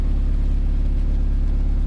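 An Indy RX5 car drives along with a loud, steady engine drone and a pulsing low rumble, heard close and continuous with no talk.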